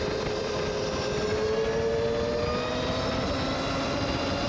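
Stark Varg electric dirt bike with about 50 horsepower accelerating hard on a road, a high whine rising steadily in pitch over loud continuous wind rush, heard from the rider's position.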